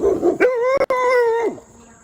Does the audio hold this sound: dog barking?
yes